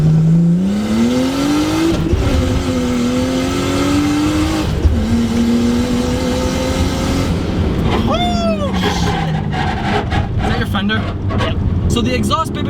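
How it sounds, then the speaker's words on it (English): 1989 Nissan Skyline R32 GTS-T with a custom 3-inch exhaust into twin 4-inch blast pipes, loud engine rising and falling through gears under driving, with a brief squeal-like sweep and continual road and wind noise, voices faintly under it. "the exhaust Bibbin has on this car is a custom 3-inch exhaust to a twin 4-inch blast pipe"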